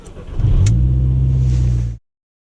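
A Volkswagen Golf Mk4 1.8T engine turns over and runs with a loud, steady low rumble for under two seconds, then cuts off abruptly into silence.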